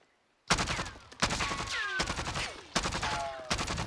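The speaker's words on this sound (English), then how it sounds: "So this will turn any fully auto weapon into a burst fire weapon." Burst-fire gunshots from a modded fully automatic weapon in the video game Warzone, four loud rapid clusters of shots after a moment of silence, each burst sharp and close with ringing tails between them.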